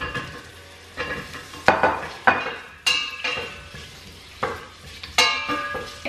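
Onions added to hot oil in a pan give a steady sizzle and frying hiss, broken by repeated sharp clinks and scrapes of a utensil stirring against the pan.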